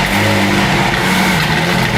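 A McLaren hypercar engine, loud and close, roaring and revving continuously after starting, with no talk over it.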